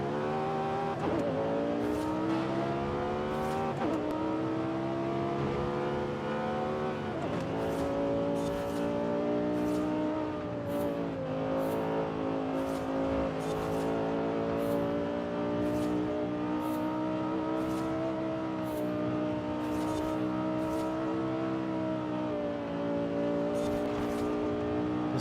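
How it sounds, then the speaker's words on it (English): A race car engine in a racing video game played on PS5 Pro with a Clubsport DD+ wheel, loud and continuous, revs climbing and dropping through repeated gear changes with occasional sharp shift clicks and no talking. "Just get to listen to the engine."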